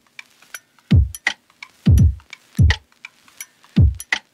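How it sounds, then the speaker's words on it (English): A new drum loop plays in Ableton Live, with punchy kick hits in a steady pattern and crisp ticking percussion in between, clean and alone. "I'm going to grab a new drum loop and put it right underneath that original one"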